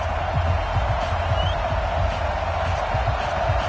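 Steady stadium crowd roar and cheering from a football video game, Baltimore Ravens hosting the Cleveland Browns in Week 4 on PS4, a continuous dense wash of noise throughout with no distinct voices standing out.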